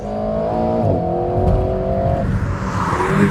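A mid-engined Alpine A110 accelerates close by, its engine note climbing through steady harmonic tones with a brief gear change, loud and continuous.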